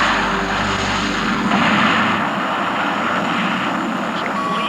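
An FA-18 Hornet jet on takeoff, a loud continuous engine roar with a steady broadband rush and a low rumble that thins partway through, no voices.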